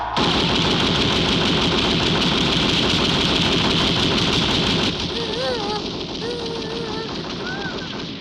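Heavy gunfire in a film scene, fired after a command, roars as a dense, continuous barrage with a rumbling engine-like texture, and voices briefly cut through near the end.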